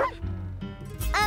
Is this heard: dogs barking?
yes